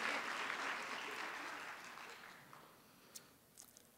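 Applause from the audience at a Bioneers conference talk: a faint, distant wash of clapping that slowly dies away, with a couple of isolated claps near the end.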